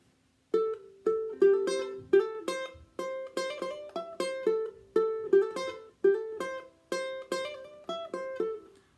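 A bright plucked ukulele riff of quick, repeating notes in a bouncy, steady rhythm, played alone, fairly quiet and close.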